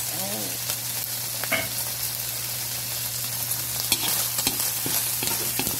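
Meat sizzles and fries steadily in a pan with a broad hiss, a low hum running beneath and occasional stirring clicks and scrapes, with no talking.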